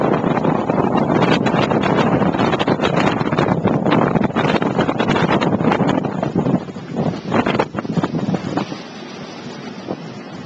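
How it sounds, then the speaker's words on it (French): A sailboat heaving through 2-metre waves during the Route du Rhum 2010 race, with constant loud wind and water rush and repeated sharp slaps and knocks of the hull pounding, easing slightly toward the end. "je ne sais pas si vous entendez derrière les mouvements du bateau"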